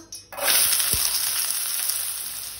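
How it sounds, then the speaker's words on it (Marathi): Finely chopped onions hit a spoonful of hot oil in a pan and burst into a loud, steady sizzle that holds without a break from the first moment. "तातून हांवें 1 चमचो तेल घातला। 2 कांदे हांवें बारीक चिरून घेतले ते घालता"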